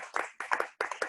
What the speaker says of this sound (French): Moi, je pense qu'il mérite nos applaudissements quand même